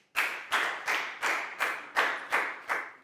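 Classroom clapping for a pupil in a Year 4 English lesson, eight sharp, evenly spaced claps in a steady rhythm, close and clear with no talk.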